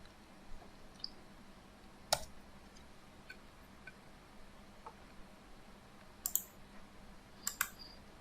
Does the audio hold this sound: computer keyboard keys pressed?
yes